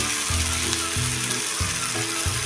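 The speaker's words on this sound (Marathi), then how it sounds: "जरास अंतर ठेवून फुलपात्रातलं पीठ आपण त्याच्यावर ओतून घ्यायचं आहे" Rice flour batter for amboli hits a hot pan and sizzles with a steady crackling hiss, close and continuous, with a few soft low knocks from the pan underneath.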